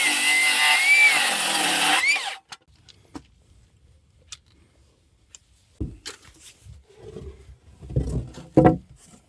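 A power saw cuts a wood board to length with a loud, close, high-pitched whine for about two seconds, then stops, leaving quiet workshop knocks and handling noises.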